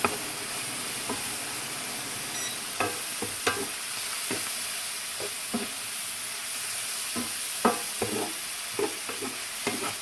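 Vegetables coated in garlic butter sear in a hot pan, a steady faint sizzle with scattered crackles and pops and occasional scraping stirs, close by and without talk.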